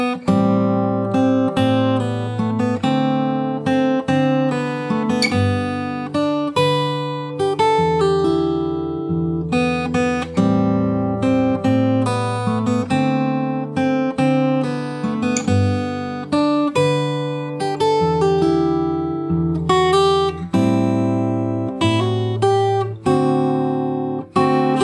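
A fingerstyle acoustic guitar plays the opening of a song, a steady stream of plucked notes and chords with ringing sustain, close and clean, continuing unbroken for about twenty-five seconds with no talking.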